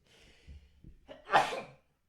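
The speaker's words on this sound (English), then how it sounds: "I need to sneeze." After a few soft breathy intakes, a single sharp, forceful sneeze bursts out close by.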